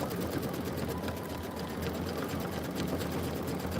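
An embroidery machine stitches a bottle label fill in linen, giving off a steady, dense mechanical hum with rapid needle chatter throughout.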